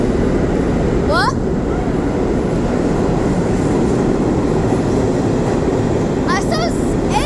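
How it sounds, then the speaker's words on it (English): An old train rumbles past nearby as a steady, loud broadband roar that fills the whole stretch, with a brief high squeal early on and more squealing near the end; voices talk faintly underneath. "There's the old train."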